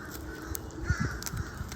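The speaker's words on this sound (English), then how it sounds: "A bunch of birds." Crows caw outdoors near a backyard charcoal grill, several fairly faint calls scattered over a second or so against a low background hum.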